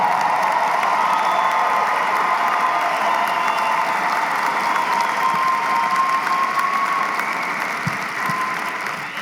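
A large commencement crowd of about 1,500 standing graduates applauding, loud continuous clapping with some cheering that holds steady throughout and tapers slightly at the end.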